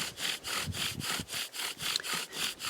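Rhythmic back-and-forth scraping of a bow drill spinning against wood, using a natural-cordage bow string, each stroke a rasping sweep, close and steady.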